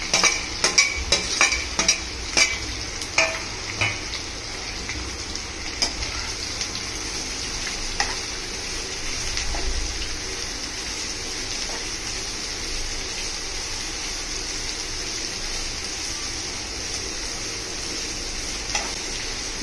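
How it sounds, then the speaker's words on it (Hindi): About 200 grams of chopped onions fry for chicken bhuna masala with a continuous close sizzle. A quick run of utensil clicks and scrapes comes at the start, then the frying hisses on steadily alone. "मैंने लगभग 200 ग्राम कटे हुए प्याज इसमें डाला है। इसे अच्छे से फ्राई करेंगे।"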